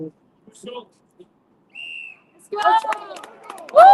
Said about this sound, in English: Just waiting for the whistle for Pablo.